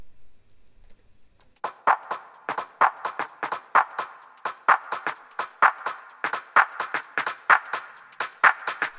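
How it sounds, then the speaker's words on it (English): A dry percussive loop sample plays alone after a quiet lead-in, with crisp clicky hits in a steady syncopated pattern, repeating evenly at moderate loudness in an EDM production intro. "So I got this percussive loop off Splice."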